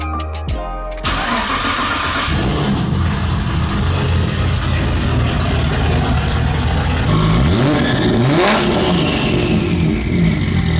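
Nissan Skyline R32 GT-R with a straight-pipe exhaust fires up and revs hard, a loud, raw engine roar that climbs and falls through several blips and holds close and continuous for about ten seconds with no talking.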